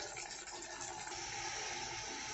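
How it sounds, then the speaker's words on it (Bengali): Water poured into a pan of spiced fried eggplant and mustard paste makes a steady, close rush with a gushing, sizzling texture, continuous throughout. "এখন আমি এর মধ্যে পরিমাণ মতন জল দিয়ে দেবো।"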